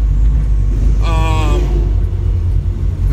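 A 1968 Mercury Cougar with a stroked engine and 4:10 gears drones loudly while driving, a heavy low rumble throughout with a brief rising whine in the middle; no one speaks.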